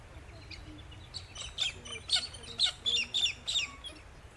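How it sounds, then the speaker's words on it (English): Pink cockatoos call in the Western Australian bush, a run of sharp, repeated high screeching notes in quick succession, fairly close and standing out over quiet background. "The pink cockatoo is widely spreaded in Australia, and in many places even a pest."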